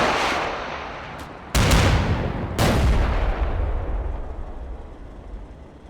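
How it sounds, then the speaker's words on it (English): Anti-tank platoon firing TOW missiles in the Cold War wargame Combat Mission Cold War, with two sharp launch blasts about a second apart over a steady rumbling battle background, loud and fairly close. "the anti-tank platoon is going crazy with the tows"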